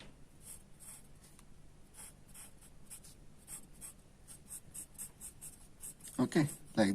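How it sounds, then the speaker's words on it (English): A pen scratches out a larynx diagram on paper in quick, rhythmic strokes, close and steady, before a voice begins speaking near the end. "I'm just drawing the diagram."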